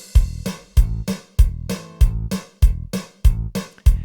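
Ketron Event keyboard plays a Balkan rhythm style variation at tempo 97, a steady pattern of punchy, evenly spaced bass-heavy hits with bright accompaniment over each beat, close and loud, with no voices.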